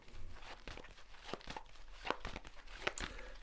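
Tarot cards being shuffled by hand, soft riffling and papery scuffs in a few quiet bursts, close and alone with no voices.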